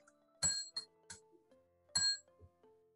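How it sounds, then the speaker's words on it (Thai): A push bell being pressed gives a few bright metallic dings with short decaying tones, two stronger strikes among lighter taps, quiet and close. "ขออนุญาตกดกระดิ่งหน่อย"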